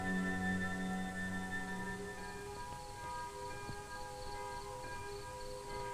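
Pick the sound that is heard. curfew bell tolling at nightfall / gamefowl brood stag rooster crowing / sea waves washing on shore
curfew bell tolling at nightfall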